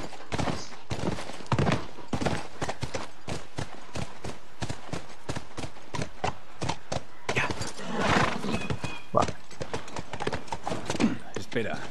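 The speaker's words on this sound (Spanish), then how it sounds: "Por ahora voy a estar en el caballo." Horse hooves gallop in a fast, steady rhythm in the video game The Last of Us, close and continuous with someone talking over them.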